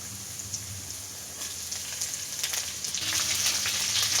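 Garlic and curry leaves frying in hot oil in a kadai for Indian-style potato fries, a dense crackling sizzle that swells louder toward the end.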